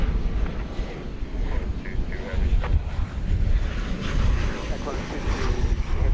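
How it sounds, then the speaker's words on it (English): A Qantas Boeing 787-9 Dreamliner bound for Melbourne at DFW Airport gives off a continuous jet engine rumble at moderate distance, with wind buffeting the microphone and someone talking over it. "There you see the Qantas flight, which is going to Melbourne, I do believe."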